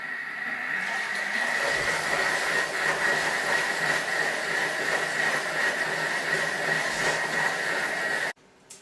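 Food processor whirring steadily for about eight seconds as it blends a liquid tomato tart batter on speed 4, a loud continuous motor drone with a high hum, stopping abruptly at the end.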